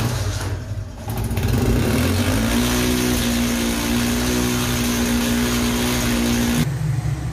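A Honda CD 70 motorcycle with a misfiring engine starts up and runs, settling into a loud, close, uneven idle with a rough, stuttering pulse before cutting off near the end.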